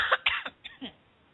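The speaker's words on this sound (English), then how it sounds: "Sorry about the coughs, guys." A few quick, dry coughs from someone with a summer cold, close and fairly quiet, in a short burst of three or four hacks with a throat-clearing quality.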